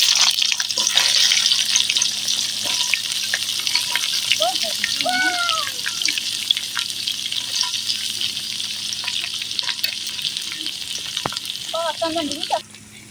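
Onion, green chili and garlic frying with spices in a pan, a loud, continuous hiss and sizzle that runs steadily throughout, broken by a few scrapes of stirring before cutting off at the end.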